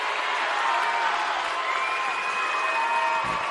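The Glenpool home crowd at a high school basketball game roars steadily, a broad wash of cheering and whooping with a little clapping that holds at even volume throughout.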